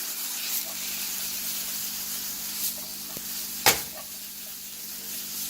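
Onions and carrots sauté in a pan for chicken gnocchi soup, a steady low sizzle running throughout with a few scrapes and clinks as the vegetables are stirred, one sharper utensil knock partway through.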